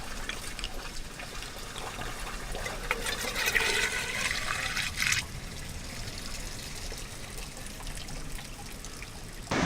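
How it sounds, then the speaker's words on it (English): Water flows steadily in a jungle creek near a Mexican beach, a continuous close rushing and trickling that swells briefly midway, with no voices. "This is the creek that you have to drive through to get to our property"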